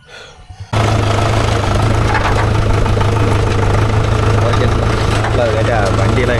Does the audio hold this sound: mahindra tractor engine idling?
yes